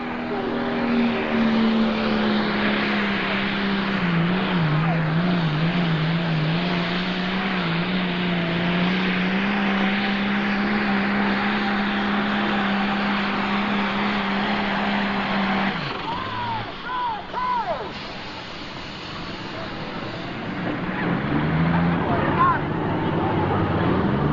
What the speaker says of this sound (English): The International. Triple turbocharged setup for this super stock tractor.